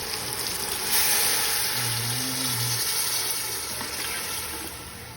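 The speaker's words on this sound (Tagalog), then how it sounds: "So, pwede na natin siya lagyan ng tubig." A steady rush of water pouring into a hot pan of oil, sizzling and bubbling continuously up close, tapering slightly toward the end.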